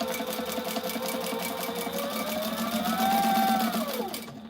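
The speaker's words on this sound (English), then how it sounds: "This is my sewing machine" A sewing machine stitches tactical gear in an in-house American workshop, running with a steady rapid mechanical hum and whine for several seconds before winding down at the end.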